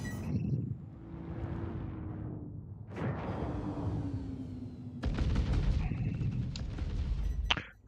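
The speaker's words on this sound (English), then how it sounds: "Who the hell's shooting at me?" Heavy booming gunfire from enemy ships in the space game Star Citizen during a Xenothreat battle, a few loud rumbling blasts with long roaring tails, growing denser toward the end.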